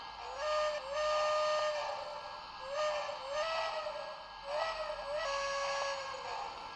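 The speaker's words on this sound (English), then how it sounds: "If you hit the volume button, you can actually change the pitch of the whistle." Electronic whistle from a Lionel battery-powered O gauge toy train set, sounding a series of repeated two-tone toots in a rhythmic pattern, fairly quiet and close with no talking.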